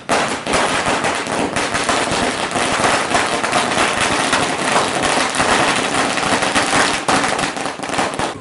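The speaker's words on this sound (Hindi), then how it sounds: "किस संबंध में आतिशबाजी की जा रही है?" Firecrackers are set off in celebration at a political party gathering, making a loud, dense, nonstop crackle of rapid pops that fills the whole stretch like a barrage, with no voices heard.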